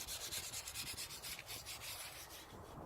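Hand sanding a diamond cut alloy wheel with fine grit paper gives a steady, close scratchy rubbing in quick back-and-forth strokes, running continuously without talk.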